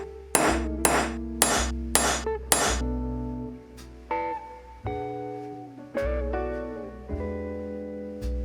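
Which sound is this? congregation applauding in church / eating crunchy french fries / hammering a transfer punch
hammering a transfer punch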